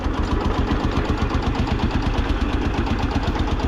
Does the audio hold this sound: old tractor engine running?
yes